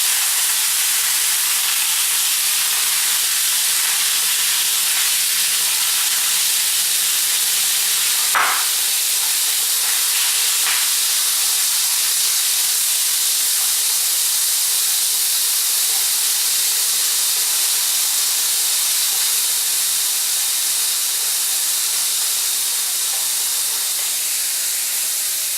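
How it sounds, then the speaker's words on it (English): Green chili and shredded coconut sizzle steadily in hot coconut oil, a constant loud hiss with one brief sharp crackle partway through and no talking. "in that coconut oil, I'm going to be throwing in some green chili. And some shredded coconut"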